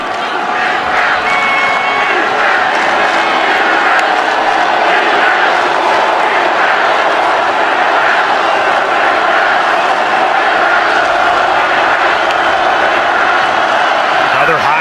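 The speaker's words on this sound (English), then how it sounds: "They're still standing up, not happy about it, trying to cheer this defense on to get out of here with another field goal attempt." College football stadium crowd at an ECU Pirates versus Tulane Green Wave game, fans standing and cheering on the defense, a loud, unbroken roar of massed voices that stays steady the whole time.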